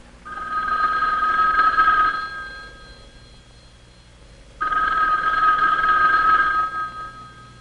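A 1960 Bell System telephone bell rings on a general farm, two long clear bursts of ringing separated by a pause of a couple of seconds, loud and close with no talk.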